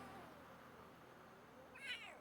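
A stray cat in a video game gives a single short meow near the end, faint and alone over a quiet background hum.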